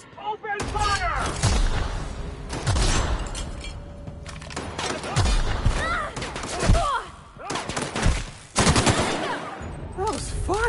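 Video game gunfire in The Outer Worlds: repeated bursts of rapid shots and booming impacts in a firefight, loud and clustered, mixed with shouting voices and game effects.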